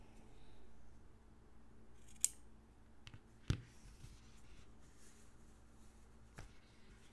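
Scissors snip through t-shirt yarn for a crochet bag, giving a couple of faint, quick cuts against a quiet room.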